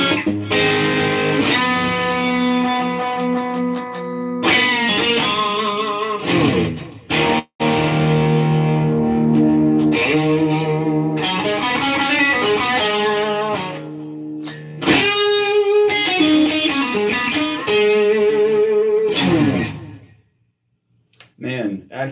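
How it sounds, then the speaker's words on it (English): An electric guitar plays bursts of distorted chords and notes through an amp with Accutronics spring reverb, each phrase trailing off with a splashy reverb tail, with brief pauses between. "Man, Accutronic Spring Reverb."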